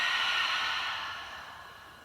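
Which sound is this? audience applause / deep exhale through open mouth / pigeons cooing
deep exhale through open mouth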